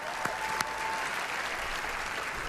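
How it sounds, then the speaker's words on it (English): A crowd at Bethesda's E3 2016 press conference applauds steadily, a dense, even wash of clapping that holds at full strength from start to finish, with a couple of sharper claps standing out early. "have another round of applause"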